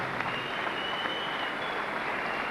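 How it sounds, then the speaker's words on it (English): Crowd applause for two boxers, Dean Phillips and Michael Muya, after eight competitive rounds, a dense, steady wash of clapping held at an even level throughout without voices. "both boxers deserve another round of applause"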